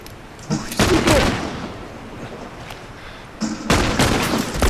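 A weapon firing in the video game The Last of Us, two loud, close, sharp bursts with decaying tails, separated by a quieter stretch.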